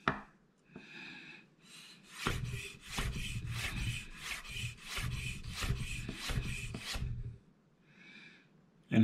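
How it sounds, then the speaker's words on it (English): Knife slicing a carrot laid on a bias on a cutting board, a run of rapid rasping crunches in close succession through the middle, with fainter isolated cuts before and after. "I'm gonna lay it down kind of on bias, and my knife is gonna cut like so"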